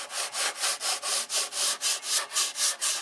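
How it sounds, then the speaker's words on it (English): Rhythmic back-and-forth rasp of 80 grit sandpaper shaping a wooden model aircraft fuselage nose, about a dozen even strokes in close succession with no talk. "Using 80 grit sandpaper,"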